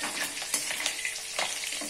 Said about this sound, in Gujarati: મરચામાં મેં કાપો મૂકીને તળવા માટે નાખ્યા છે જેથી કરીને ફૂટે નહીં